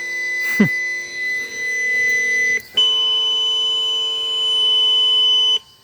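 An electronic alarm clock rings with a loud, steady tone that jumps in pitch partway through, then cuts off abruptly.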